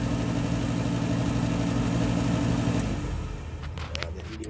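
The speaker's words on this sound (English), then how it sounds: "The diesel fan's blowing properly." A furnace draft fan blows with a steady, droning hum during a gas leak check, then winds down about two-thirds of the way through, leaving faint clicks and handling noises.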